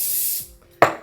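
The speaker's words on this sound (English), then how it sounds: "I'm just gonna pull it out and spray it individually." A short, close hiss of hairspray misted onto curled hair, fading out, followed by a brief sharp second burst.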